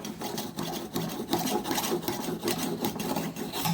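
A kitchen knife scrapes against the unglazed bottom rim of a ceramic tea mug in quick repeated rasping strokes, close and fairly loud, a gritty back-and-forth grind.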